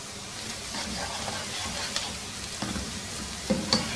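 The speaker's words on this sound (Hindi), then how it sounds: "प्याज को इतनी देर तक पकाना है कि इसका रंग हल्का सा तब्दील हो जाए।" Sliced large onion frying in hot oil, a steady broadband sizzle with occasional stirring scrapes and small pops, close and continuous with no talking.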